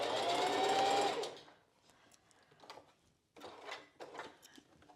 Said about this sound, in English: going to sew across this top of the bridge section, also at a 1/4 of an inch.